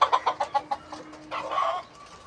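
Native chickens on a small farm, some with pox on their heads, cluck in a quick run of short, fairly near calls, then give a longer, drawn-out call.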